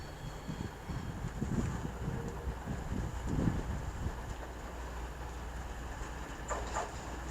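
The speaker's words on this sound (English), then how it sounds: "Incoming now, receiver 1409 East Midlands Railway service to Sheffield." An East Midlands Railway service to Sheffield pulls into Derby station, a steady low rumble with rail noise and gusty wind across the platform, moderately loud and unbroken by voices.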